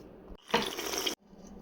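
A kitchen tap gushes for about half a second while food is being cooked, loud and close, set between quieter stretches of room sound.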